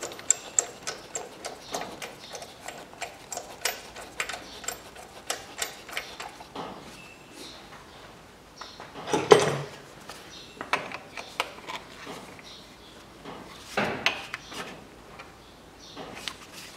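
A ratchet tightens a bolt on a 2008 Chevrolet Lanos engine during a thermostat and timing belt job, giving uneven runs of sharp clicks close up, with a few louder metallic knocks in between.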